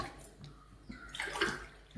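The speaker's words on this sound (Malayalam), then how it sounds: "ഇത് പച്ചവെള്ളം എന്തായാലും 2-3 ഗ്ലാസ് ഒഴിക്കും" Plain water poured from a glass into a pot of green gram (cherupayar) for cooking, a faint brief splash and gurgle over about two seconds.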